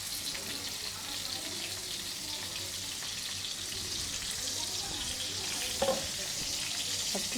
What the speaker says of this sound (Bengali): এই যে নাস্তার রেডি হচ্ছে বেগুনটা, একদম একটু লো হিটে ভেজে নিতে হবে